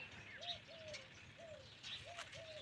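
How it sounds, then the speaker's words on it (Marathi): Soft, repeated dove-like coos drift in at a steady rhythm, with faint chirps from other birds in a quiet outdoor setting near a stream at sunset. "पक्ष्यांचा आवाज येत आहे"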